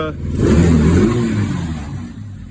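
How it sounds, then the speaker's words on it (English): A mini Jeep's small engine runs in neutral in cold weather, idling a little high with a steady rough drone that swells early and then settles. Someone talks over it. "I got it in neutral, and there it goes. Got it idling a little high."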